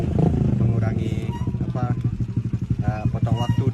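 A motorcycle taxi (ojek) engine runs on the Mount Rinjani trail, a steady close putter with rhythmic pulses under continuous talking throughout.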